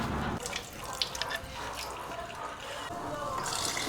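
Running tap water splashes steadily into a sink as rice is rinsed by hand, with faint sloshing and a brief clink near the start.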